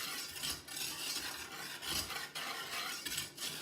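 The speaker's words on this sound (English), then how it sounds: "So I want to whisk those things together" Flour and salt are whisked together in a bowl with a brisk, rhythmic scratchy swishing, repeated strokes about every half second, close and steady with no voices.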